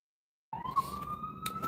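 An emergency vehicle siren wails steadily in the distance after a half-second of silence, a single sustained tone with faint background noise.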